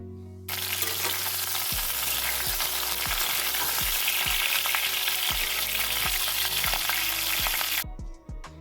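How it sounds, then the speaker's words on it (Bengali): Cauliflower and potatoes frying in hot oil, a loud, dense sizzle that runs steadily throughout, punctuated by regular dull knocks of stirring, before cutting off abruptly. "ফুলকপিগুলো ভেজে নিয়ে তার উপরেই কিন্তু আমি আবার আলুটা বসিয়ে দিয়েছি"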